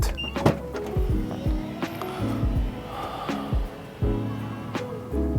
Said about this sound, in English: It gets a power liftgate, which the Nissan Terra does not get.